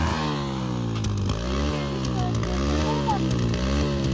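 A modified Hero Splendor motorcycle engine idles and revs loudly close by, with a throbbing exhaust note that rises and falls in repeated throttle blips.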